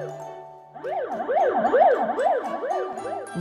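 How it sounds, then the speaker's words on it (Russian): A red fire engine's siren in a children's cartoon: after a short quiet lead-in, a loud, piercing wail sweeps steadily up and down in repeated cycles, alone and without voices. "Вой пронзительной сирены может оглушить."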